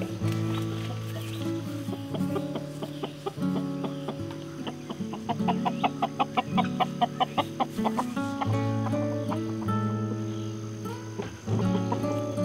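Chickens cluck in a morning coop: several birds call over one another in a continuous, fairly close chorus, with a run of sharp rhythmic clucks in the middle.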